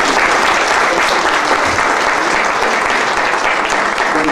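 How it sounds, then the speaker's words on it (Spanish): An audience at a book presentation on environmental education claps loudly and steadily, a dense close applause that fills the whole moment without a pause. "pido un punto de aplauso para ellos"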